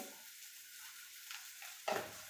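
Mustard seeds (rai) drop into hot oil while cooking upma, giving a faint hiss that breaks into a short, louder crackling burst near the end.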